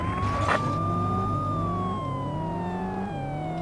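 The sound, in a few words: police car siren in video game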